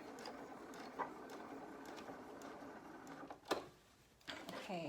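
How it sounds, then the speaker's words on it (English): A computerized sewing machine stitches a dense single-layer fabric mask, a faint, steady mechanical whir with small ticks and a brief louder clunk partway through, heard close in a quiet room. "I have a computerized machine that did a back stitch in the middle"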